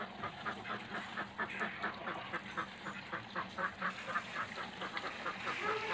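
Ducks on a duck farm quack in a quick, repeated chorus at a distance, fairly faint but continuous.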